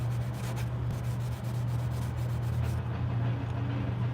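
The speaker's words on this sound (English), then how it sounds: "I'm just kind of continuing to go with the 400 grit" A guitar being sanded with 400 grit sandpaper, soft rhythmic rubbing strokes repeating close up over a steady low hum.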